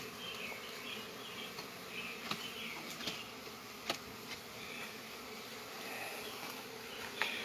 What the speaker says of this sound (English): I don't know if you can hear all those bees in there. They're really a buzzing.